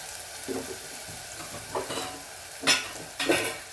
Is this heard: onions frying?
yes